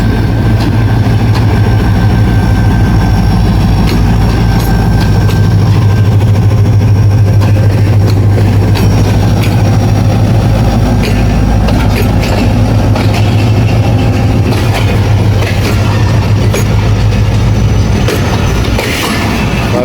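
Heavy diesel locomotive engine idling and rumbling at Khanewal Junction, a steady loud low throb with continuous mechanical hum and occasional clanks throughout, no talking.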